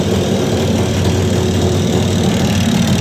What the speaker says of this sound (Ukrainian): Виставив мінімальні холості.